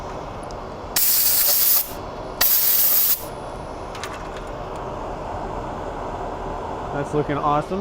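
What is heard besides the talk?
dust collector running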